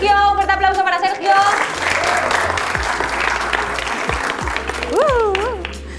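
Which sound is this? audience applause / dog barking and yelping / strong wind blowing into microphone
audience applause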